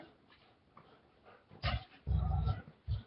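A pet dog whimpers and whines at a toy indoors, starting faint and then rising into louder close-up yelps and whimpers in short bursts.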